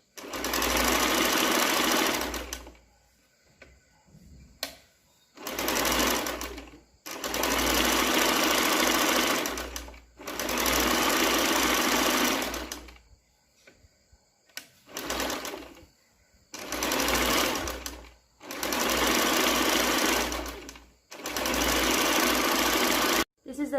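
A sewing machine stitching blouse fabric runs in about seven loud, close bursts of fast whirring, separated by short quiet pauses.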